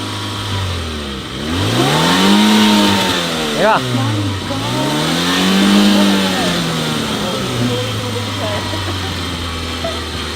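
A real remote-controlled car's engine revs up in two strong swelling pulses as its accelerator is pulled, then settles to a steady idle, loud and close.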